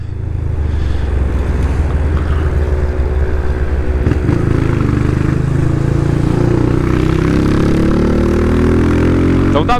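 A motorcycle engine idles steadily up close, a low even putter with mechanical ticking, rising slightly in pitch toward the end.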